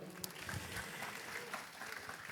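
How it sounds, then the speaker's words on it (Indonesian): Faint, distant audience applause at a philosophy talk: a soft, steady wash of many hands clapping, low in level, with no voices standing out. "Weh, tepuk tangan boleh dong dulurku."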